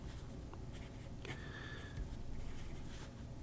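Fountain pen nib with black ink scratching across paper, a quiet, steady scratchy rasp with brief strokes, close up and faint.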